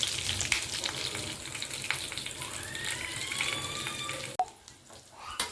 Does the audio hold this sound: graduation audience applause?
no